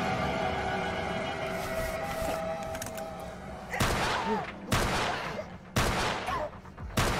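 Gunfire in Friday the 13th: The Game, several sharp loud shots at uneven intervals in the second half, cutting through a dense, busy game background.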